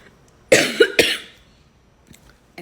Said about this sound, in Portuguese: Essa tosse tá me matando.